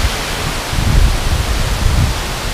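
Ilihan Falls on the Maulat River in Batangas City roars as a loud, steady rush of falling water, a dense continuous wash with a deep rumble and no voices.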